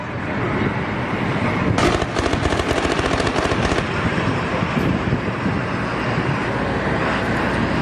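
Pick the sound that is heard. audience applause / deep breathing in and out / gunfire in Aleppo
gunfire in Aleppo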